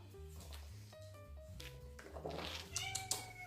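A cat meows repeatedly, in drawn-out whining calls that rise and fall, with a dog nearby. The cries come close and fairly quiet, growing more agitated toward the end, like a squabble, with no talking over them.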